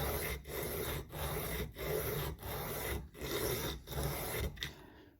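A rough sanding block rubs a guitar bridge saddle down on a Squier Bullet, six steady back-and-forth strokes with brief gaps between them, close and fairly quiet, with no speech.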